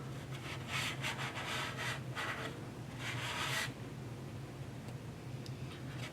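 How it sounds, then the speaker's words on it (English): A small towel rubs over a cittern's wooden body in close, soft swishing strokes, several bursts of scrubbing with brief pauses between, fairly quiet against a low steady hum. "I've got a little towel here to wipe off any excess."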